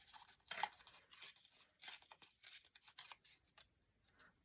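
Scissors snip repeatedly through small paper index cards, a quick series of crisp cuts and slight paper rustles, close and fairly quiet with no talking.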